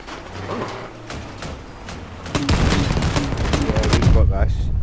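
Rapid 20mm small caliber cannon fire in the vehicle combat game Crossout, a burst of sharp repeated shots that grows louder and denser midway, with voices talking over it.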